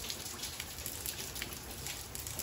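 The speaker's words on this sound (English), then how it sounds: "You see it's still raining." Steady rain falls continuously, a dense hiss of drops striking surfaces close by, heard alone at an even level with no voices.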